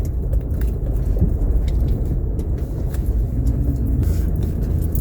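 A Ford F250 Super Duty with the 6.7 diesel and Tow Max drives along a rough road, giving a steady low rumble and road noise that continue without a break from start to finish.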